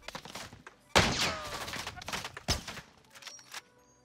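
Swiss K31 sniper rifle shots in a video game: two sharp, loud cracks about a second and a half apart, each trailing a brief ringing tail, with a fainter pop near the end.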